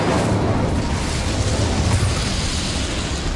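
Incendio fire spell cast in Hogwarts Legacy, a loud, sustained fiery whoosh and roar that fills the whole moment with steady rumbling burst energy, no voices over it.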